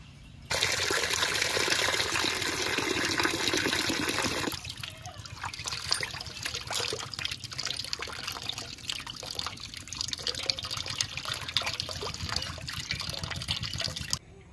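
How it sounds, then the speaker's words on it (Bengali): Cut pomfret fish being washed in water: a strong running tap gushes for a few seconds, then gives way to softer sloshing and splashing as the pieces are rinsed by hand, close by with no talk. "মাছগুলো সব কাটা হয়ে গেছে, এবার ভালো করে ধুয়ে নেব।"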